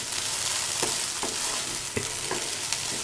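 Okra (ladies finger) stir fry cooking in a pan: steady crackling sizzle with periodic spatula taps and scrapes roughly every half second, close and moderately loud, no talking.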